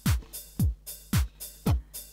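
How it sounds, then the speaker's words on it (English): Ukulele strummed in a steady subdivided pattern, four strong down-strums about half a second apart, each followed by a lighter up-strum, played alone and fairly close. "A subdivided beat strum would sound like this."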